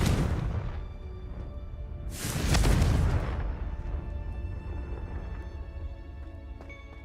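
A blasting Confringo spell explodes in Hogwarts Legacy with a loud booming burst and whoosh that swells midway, set against steady game ambience.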